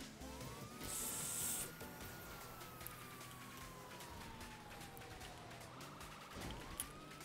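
Police car siren in GTA V Online, a steady wailing tone sweeping slowly up and down over game background noise, fairly loud and continuous.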